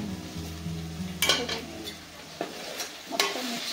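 A spoon stirs a puri curry mixture in a pan, giving soft scraping and a few sharp metallic clinks against the pan over a quiet background sizzle, with no voices.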